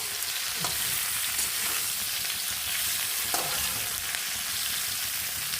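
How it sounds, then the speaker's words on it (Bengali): Taro stolons sizzle and crackle steadily as they fry in a pan for a quick vegetable curry, with occasional stirring scrapes over a constant close hiss and no voices. "দিয়ে দেব কচুর লচিটা একটু ভেজে নেবো"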